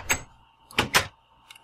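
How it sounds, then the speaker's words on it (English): A wooden door in the Minecraft video game opens and closes, giving three short clicky clunks: one alone, then a quick pair close together, with a faint tick at the end and quiet gaps between. "Now you can simply right-click on the door to open,"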